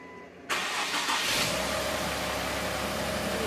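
A 2010s Infiniti Q50 car engine with a P0335 crankshaft position sensor fault turns over briefly and catches, settling into a steady, loud idle rumble with no voices.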